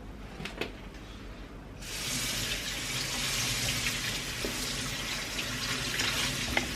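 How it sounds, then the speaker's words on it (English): Strawberries are washed under a running kitchen tap: a few light clicks and knocks come first, then the water gushes on and splashes steadily into the sink, close and without voices. "So, strawberries in. Gonna wash them now."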